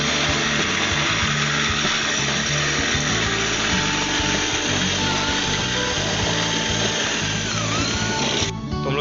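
A power drill with a 10 mm bit bores steadily into a window frame to widen a water outlet hole, a loud continuous grinding whine that holds for nearly the whole stretch before cutting off near the end.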